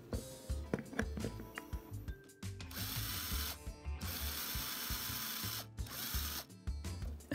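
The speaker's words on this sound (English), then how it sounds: "taking the head off the rivet." A slow drill bit cuts away the rivet head on a small diecast toy car, producing a close, stuttering mechanical whir in short bursts with brief pauses between them.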